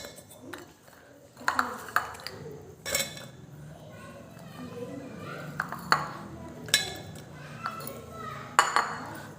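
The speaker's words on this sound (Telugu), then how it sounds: "ఈ చింతకాయల్ని ఒక మిక్సీ బౌల్లోకి తీసుకోవాలి" Raw green tamarind dropped into a steel mixer jar gives a series of sharp, close clinks and clatters at irregular intervals, with faint voices in the background.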